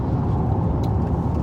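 A car's interior cabin rumble while driving on the road near Rockport, a steady low drone of engine and tires with no one talking.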